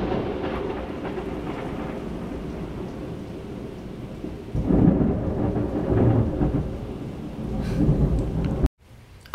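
Thunderstorm with pouring rain, a constant heavy wash of rain with deep rolling thunder swelling midway and again near the end, heard alone before a brief cutoff.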